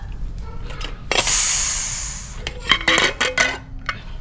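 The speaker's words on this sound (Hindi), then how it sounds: "प्रेशर कुकर जो गैस था निकल गया है, ढक्कन खोलते हैं।" A short burst of hissing steam as a pressure cooker of rice pulao is opened, then its metal lid clanks and pots clink sharply several times close by.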